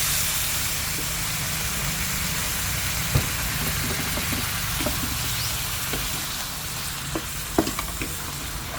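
Long beans stir-fried in a pan give a steady close sizzle with scattered scraping stir clicks and small pops, no voices over it.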